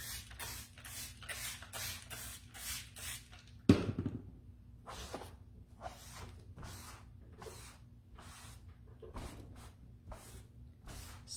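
Water spray rinsing off a sled comes in rapid, evenly spaced bursts, then breaks into irregular, spaced-out spurts after a sharp splash; moderately loud and close, with no talking.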